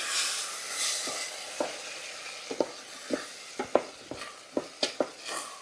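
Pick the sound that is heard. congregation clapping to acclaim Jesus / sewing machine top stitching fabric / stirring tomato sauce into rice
stirring tomato sauce into rice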